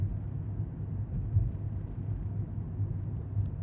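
A car driving through Alamogordo, New Mexico gives a steady low engine and road rumble from inside the cabin, even and continuous with slight swells and no talk.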